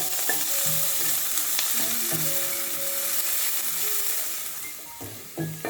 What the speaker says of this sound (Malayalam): ചെറിയുള്ളി ചേർത്ത് എണ്ണയിൽ വഴറ്റിയെടുക്കാം.